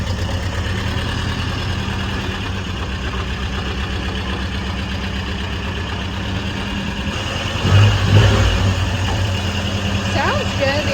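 A car engine idles steadily in a car bay, a loud, continuous low rumble with a faint knocking texture. A voice speaks over it near the end.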